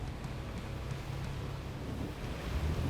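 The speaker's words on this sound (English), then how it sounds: "Just gonna drag that tow ball into the water, keep a nice bow wave going." Water churns and rushes steadily against a vehicle moving through it, a continuous low wash mixed with engine rumble, no voices.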